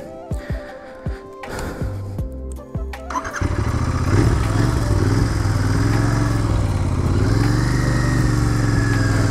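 A Royal Enfield Continental GT 650 motorcycle, its engine cranking and firing with a few stuttering bursts before settling into a loud, steady twin-cylinder drone while riding; close and dominant, with no voices.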